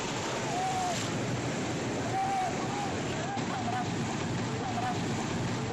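Ocean surf rolling and breaking continuously along a beach shore, a dense steady wash of water with wind noise, loud and close throughout.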